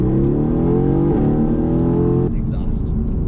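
A Mercedes-AMG GT sports car revs hard under acceleration, its loud exhaust note climbing steadily before a sharp gear change drops the pitch, heard from inside the car.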